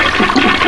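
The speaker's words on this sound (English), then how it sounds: "I'll try flushing the toilet" A toilet flushes in a short, loud rush of water close by, a continuous gushing swirl with no talk over it.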